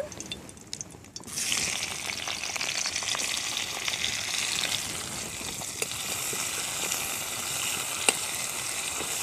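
Chopped onion dropped into hot oil in a wok, a sudden burst of loud sizzling that settles into a steady, close frying hiss with occasional pops.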